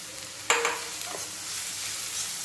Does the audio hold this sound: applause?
no